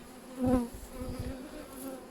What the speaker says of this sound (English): Oh, look at how many bees are there.